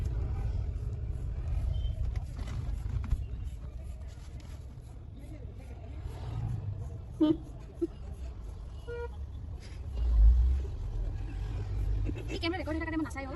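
A car is driven through an Assamese village during Magh Bihu, with a low steady engine rumble running under near constant talking and a short horn toot partway through.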